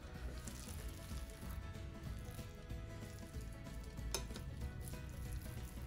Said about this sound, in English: I'm going to put this straight into the air fryer